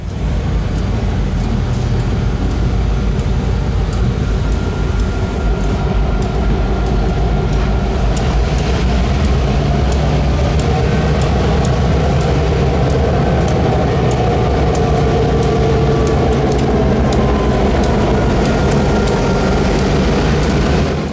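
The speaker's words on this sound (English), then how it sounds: "watch number 3 hug the Spring Creek as they assembled their train" A Nittany and Bald Eagle shortline train assembles beside Spring Creek, a steady close rumble of locomotive and railcars with faint squeals and clanks running throughout.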